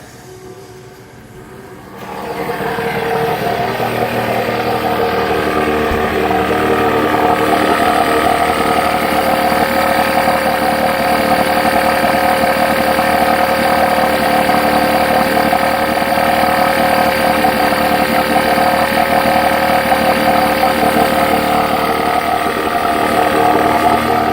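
A 15 HP Gamefisher outboard motor drones steadily on an O'Day 25 sailboat, starting after a brief quiet moment and then holding a loud, even engine tone with a constant mechanical hum.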